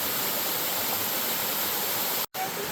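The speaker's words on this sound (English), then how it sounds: "All these little waterfalls." Small waterfall along the Boone Fork Trail, a steady broadband rush of tumbling water, close and unbroken except for a brief dropout near the end, with no voices.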